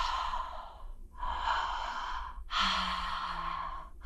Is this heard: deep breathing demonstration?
yes